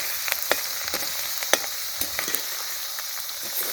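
Turkey pieces sizzle in a hot pan while being stirred, a steady close frying hiss broken by scattered clicks and scrapes of the utensil.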